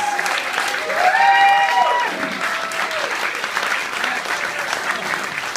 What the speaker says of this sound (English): Let's give another round of applause for Just One of the Guys.